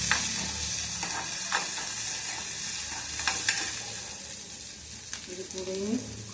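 Onions fry in a pan with spluttered mustard seeds for homemade noodles, a steady, moderate hiss and sizzle with occasional stirring clicks and scrapes, close by, and a brief voice near the end.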